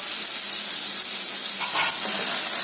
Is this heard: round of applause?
no